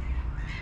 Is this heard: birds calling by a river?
yes